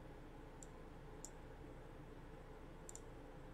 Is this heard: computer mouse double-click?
yes